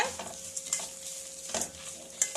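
Chettinad masala with coconut fries quietly in a pan, a soft sizzle broken by a few distinct stirring scrapes spaced apart.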